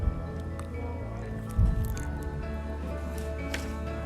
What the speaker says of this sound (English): In my wok, I'll add vegetable oil and sesame oil.